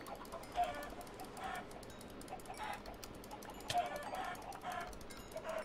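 Minecraft chickens giving short, soft clucks at scattered intervals over a quiet background, fairly faint and sparse.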